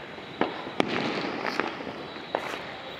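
Diwali firecrackers popping outdoors during the festival, a few sharp cracks at a moderate distance over a steady crackling hiss, with no voices.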